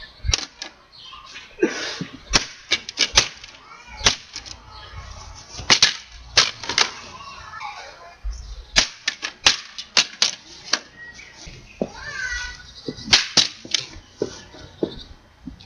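An Elgato PVR capture card gets beaten and smashed, giving sharp, loud cracking impacts in irregular bursts with short pauses between strikes. Brief voices come through now and then between the hits.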